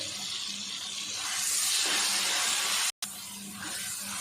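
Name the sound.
water poured into frying masala for aloo phaliyan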